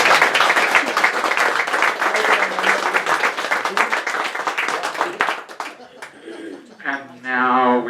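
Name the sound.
audience applause for Mary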